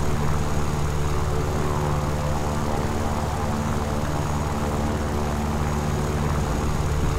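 Airplane engine in a tank combat video game, a steady loud propeller drone with constant broadband roar throughout, no talk.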